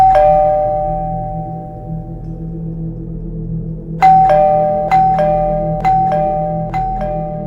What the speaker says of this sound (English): my doorbell is just constantly ringing